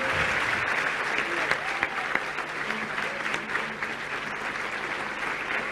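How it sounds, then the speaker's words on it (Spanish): A crowd in Corrientes applauds Argentine President Javier Milei with steady, sustained clapping that fills the space evenly, a dense continuous roar of hands without pauses. "les pido un aplauso muy fuerte para el presidente de la Nación"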